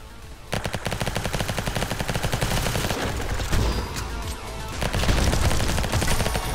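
Sustained machine-gun fire in the video game Gene Shift Auto: a steady, loud stream of rapid shots with brief gaps, running through the whole stretch with no voices.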